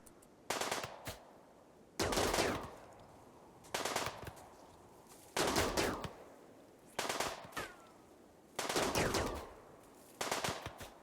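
Gunfire volleys in a Rimworld firefight, seven sharp, loud bursts of rapid shots separated by short quiet gaps.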